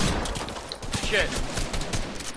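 Rapid bursts of gunfire in an online shooter video game, several quick cracking shots under excited voices and background game sound.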